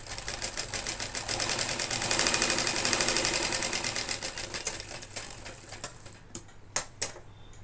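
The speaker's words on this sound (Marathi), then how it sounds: "तर याला एक 5 नंबरची टीप मारून घ्यायची." A sewing machine stitches a princess-cut blouse in fast, rhythmic mechanical bursts that swell and fade, ending in a few separate clacks as the run stops.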